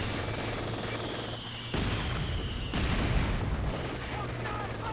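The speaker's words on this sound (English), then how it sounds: "it's just an all-out mortar machine gun war here" Mortar and machine gun fire rattles through a 4v4 Company of Heroes 2 battle in Lienne Forest, bursts of gunfire and booms layered over a low steady hum, shifting in level as the fight continues.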